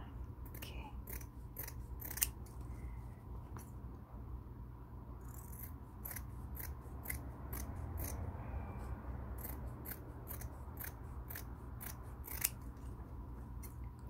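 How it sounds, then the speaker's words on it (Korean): Scissors snipping along the drawn outline of a paper shape for a DIY embroidered tumbler package, a series of quiet, crisp cuts in irregular bursts over a low background hum. "그려진 그대로 가위로 올려서 잘라주시면 돼요"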